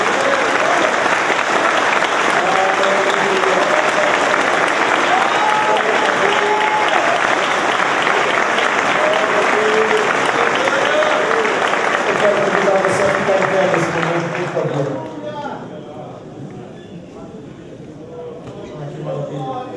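Congregation at a pastors' meeting applauding in a steady, full roar of many hands that fills the room, then thins abruptly toward the end as voices and scattered claps remain.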